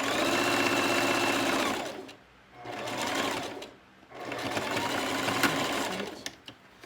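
A sewing machine stitches fabric in three loud, close bursts with brief pauses between them, the motor whirring steadily during each run.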